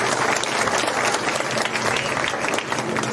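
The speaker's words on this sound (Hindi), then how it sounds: "तो एक बार जोरदार तालियां हमारी माताएं बहनें के" Loud, dense applause from a large crowd at an outdoor election rally in Jamana, Haryana, steady clapping filling the whole stretch with a faint murmur of voices underneath.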